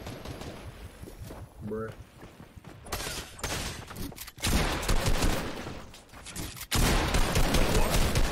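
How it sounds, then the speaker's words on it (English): Gunfire in the video game Fortnite, bursts of shots in several loud stretches mixed with game effects, while a player talks over the action. "there's no way you're still fucking shooting, you moron"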